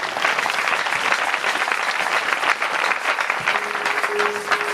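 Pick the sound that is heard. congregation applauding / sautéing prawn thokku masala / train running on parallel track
congregation applauding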